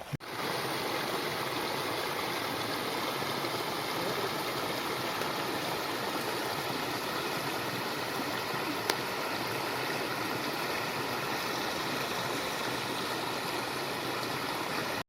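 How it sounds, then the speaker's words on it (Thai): Steady, full rushing water pours continuously from a forest stream waterfall heard up close, with no pauses and no voices. "น้ำตกนะครับ"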